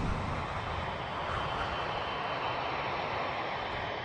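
Engines of a damaged, overweight Boeing 747 airliner flying on just two engines during its final approach to Honolulu, a steady, dense roar that holds constant throughout with no voices.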